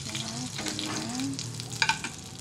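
Pork adobo mix with onion and garlic sizzles in a hot pan while being sautéed, with the scrape and clatter of a utensil stirring, close and steady.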